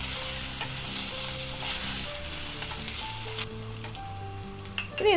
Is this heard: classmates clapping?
no